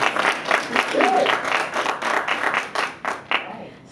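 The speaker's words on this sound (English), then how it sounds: "please give a hand of applause for our" Audience applause for a panelist at a New Hampshire history panel on military service, a roomful of hands clapping in uneven bursts that taper off toward the end, with a voice briefly audible over it.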